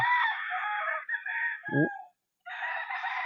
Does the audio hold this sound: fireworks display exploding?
no